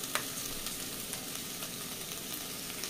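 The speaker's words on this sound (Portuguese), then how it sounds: "coloquei aqui um pouco de azeite, minha pasta de alho e cebola, vou dar uma refogadinha" Meat sautéing in olive oil with garlic and onion paste gives a steady, close sizzle and crackle, with faint stirring clicks throughout.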